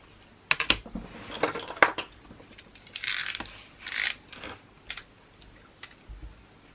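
Paper being cut for an Enchanted Forest scrapbook album, giving a run of sharp crisp snips and rustles in uneven bursts, close and fairly quiet, with no talking.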